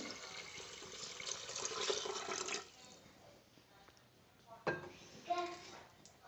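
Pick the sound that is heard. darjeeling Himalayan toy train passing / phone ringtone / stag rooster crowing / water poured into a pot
water poured into a pot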